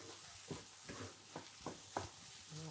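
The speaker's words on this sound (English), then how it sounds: "Stir that all together" Food being stirred in a pan with ground cumin, about five soft scraping strokes at an even rhythm over a faint, steady sizzle, close up and quiet.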